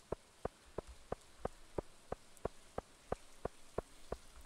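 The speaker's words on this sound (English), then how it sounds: "Oh, I do like it when it rains." Rain falling in the video game Stardew Valley, heard as evenly spaced soft drops tapping about three times per second over a faint steady hiss, quiet and with no voices.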